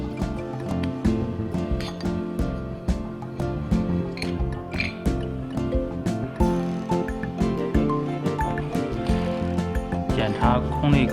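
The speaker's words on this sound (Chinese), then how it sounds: "用10号扳手拆下空滤。" Quick repeated metallic clicks and ratcheting of a 10 mm wrench loosening fasteners to remove the air filter on a Naili AFZ series air compressor, close and busy in short bursts throughout.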